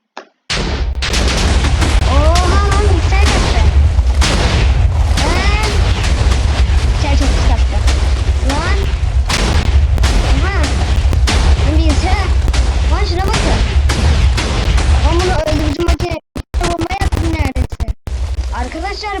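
TNT blocks explode in a video game, a dense, loud barrage of booming blasts going off continuously for many seconds, with a short drop-out near the end before the rumbling resumes.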